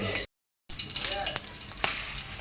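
Bay leaf and dried red chilli sizzle in a little hot oil in a Bengali home kitchen, a brief steady frying crackle broken by a short silent gap, with occasional light clinks of a utensil.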